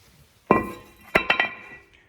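A metal brake rotor comes off the front hub of a 2005 Ford Freestyle: one sharp clank, then a quick cluster of ringing metallic clinks nearby, with no talk.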